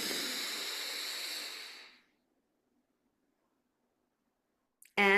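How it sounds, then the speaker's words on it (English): A slow, deep inhale through the nose during a vagus nerve breathing exercise, a soft airy hiss lasting about two seconds that fades into silence before a brief sound at the end. "Breathing in."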